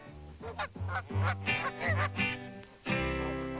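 A flock of geese honks repeatedly, loud and close, with overlapping nasal calls in quick bursts and a brief pause before a final sustained honking.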